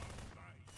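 Gunfire from the video game Prop Hunt, rapid and dense like a burst of repeated shots, loud and close throughout the short moment with voices partly mixed in.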